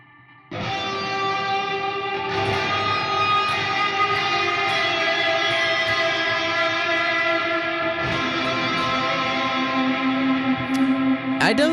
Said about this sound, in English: Nameless has like this really sweet reverb, especially on this preset called Ambient Volume Swells